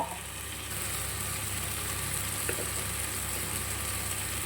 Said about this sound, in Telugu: బాగా కొంచెం పచ్చి వాసన పోయేంత వరకు బాగా ఆయిల్లోనే ఫ్రై చేసుకుంటాం